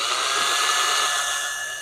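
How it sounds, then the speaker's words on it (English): A small hand drill whines steadily while boring out the eyelet of an old fishing lure, a continuous high-pitched motor buzz up close with no talking. "Get our little drill in there just to,"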